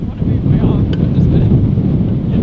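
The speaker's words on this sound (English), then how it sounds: "That is really windy." Strong wind buffets the microphone in a loud, rumbling roar that gusts continuously throughout, outdoors at Manchester Airport.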